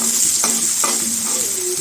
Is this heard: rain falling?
no